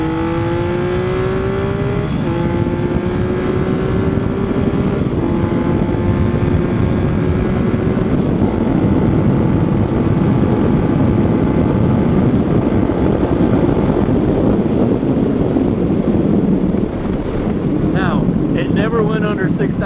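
A 1980 Yamaha XS850 Special motorcycle revs hard above 6,000 RPM while ridden, its engine droning loudly and continuously through gear changes, with heavy wind rush buffeting the microphone throughout.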